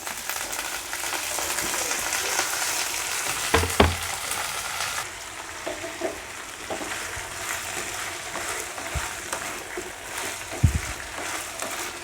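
Banana pieces frying in a pan with red chilli seasoning, a steady loud sizzle broken by a few sharp clatters of stirring, fading slightly after the pieces go in.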